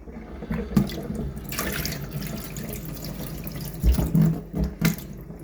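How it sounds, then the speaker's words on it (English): Water runs from a tap at low pressure in a steady, thin trickle, with a few louder splashes and clunks near the end; no talk. "That water pressure is down a bit too. It's usually pouring out a bit better than that."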